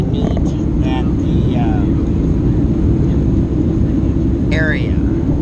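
Inside the cabin of a plane in flight over rural country, a loud, constant low engine and wind drone fills the whole stretch while people talk over it.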